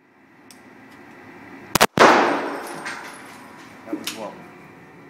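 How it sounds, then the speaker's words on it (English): A new Springfield XD handgun fired at a shooting range, one loud, sharp close report with a short echoing decay, followed a couple of seconds later by fainter clanks and brief voices. "Today's his first day shooting his new gun."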